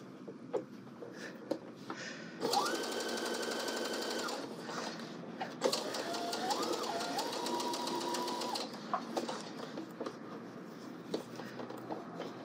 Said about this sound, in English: Now we're going to stitch this down.